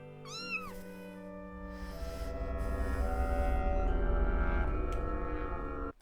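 A kitten meows several times in quick rising-falling calls near the start, followed by a loud sustained tonal drone that swells and runs until a sudden cut just before the end.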